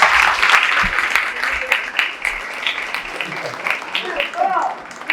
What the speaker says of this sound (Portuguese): Uma salva de palmas para Roberto Lima.